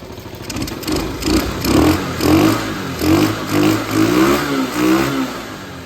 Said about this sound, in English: So we got a clean carburetor, brand new battery, fresh gas. She's idling.